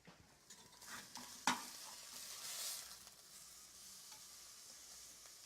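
A burger patty frying in a pan, a soft, quiet sizzle with a sharp clack and scrape as it is flipped, then a louder hiss that settles back down.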